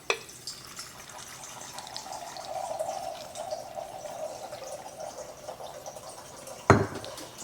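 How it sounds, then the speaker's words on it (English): Salt brine pours steadily into a jar of radishes for several seconds, a gurgling stream with a rising tone as it fills near the rim, ending with a sharp clunk. "I'm going to pour it into the jar."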